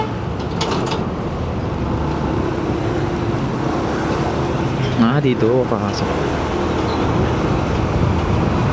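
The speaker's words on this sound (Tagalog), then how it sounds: "Ang daming truck yan." Trucks and other traffic rumble steadily past on a road near the Navotas coastal development, heading toward Roxas Boulevard. One vehicle sweeps by with a rising and falling tone midway, and someone speaks briefly over the road noise.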